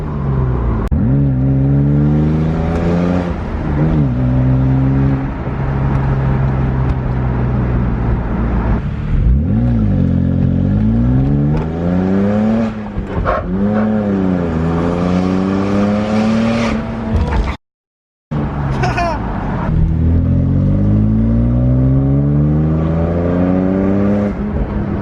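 A 2009 BMW 135i convertible engine pulls hard through its gears, loud and close, with repeated rising revs broken by shifts and a brief cut of silence near the end.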